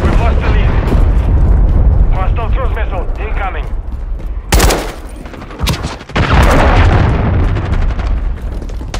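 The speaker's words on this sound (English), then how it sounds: "Hostile cruise missile incoming." A cruise missile strike in Call of Duty MW3 Team Deathmatch on the Tanked map: loud booming blasts and heavy rumble mixed with gunfire bursts, one sharp, strong hit standing out midway and more crashing after it.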